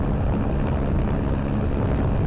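Steady, loud rotor and engine drone from a helicopter filming a rally stage on a sealed surface at Rally Islas Canarias, continuous throughout with no talk.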